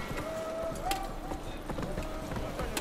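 Hoofbeats of Roach, a horse in The Witcher 3 video game, galloping briefly under game music and a speaking voice.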